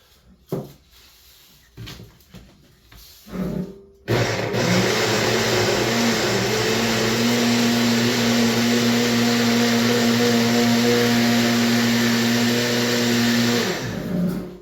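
A blender blending blueberries roars steadily for about ten seconds after a few short bumps and clatters, then winds down near the end.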